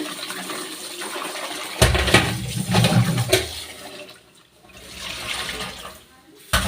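Chinese potatoes (koorka) are rinsed in water in a home kitchen, with close sloshing and splashing that swells and fades in uneven bursts, plus a sudden louder splash near the end.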